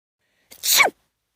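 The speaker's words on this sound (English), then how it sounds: "I can't stop sneezing" One sharp sneeze bursts out close by, brief and loud, with silence before and after.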